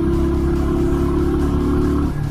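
A motorcycle engine runs loud and close at a steady, low-pitched rumble for about two seconds, with a slight dip near the end and no voices.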